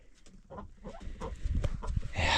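Ducks in a duck pen on a small Montana homestead make soft, low clucking and quacking calls that grow slightly louder and busier toward the end.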